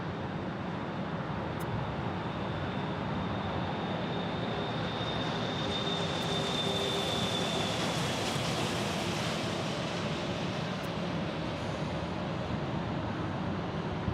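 A Delta jet takes off from runway 7 left at Phoenix Sky Harbor airport. Its engines make a steady, broad roar that holds at an even loudness throughout, with a faint whine rising slightly midway.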